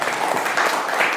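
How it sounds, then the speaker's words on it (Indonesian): A class of students applauding themselves in a school classroom, a dense, steady wash of many hands clapping at close range with no voices over it. "Silakan tepuk tangan untuk kalian ya."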